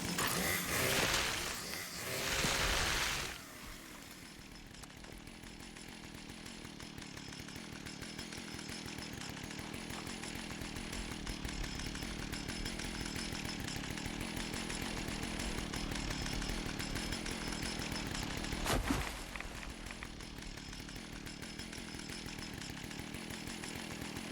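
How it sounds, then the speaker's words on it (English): A video game chainsaw buzzes steadily for a long stretch, with a louder burst of noise at the start and a sharp hit near the end. "Chainsaw is so fun, and the noise is great."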